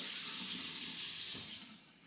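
Water running from a kitchen tap while cooking chicken and shrimp tacos, a steady close hiss of flowing water that stops near the end.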